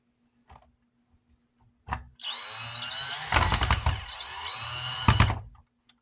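A power drill driving screws into a tower fan, with an oversized bit, whirs for several seconds, with rising and falling pitch and grinding bursts as it bites, after a few small clicks, close by.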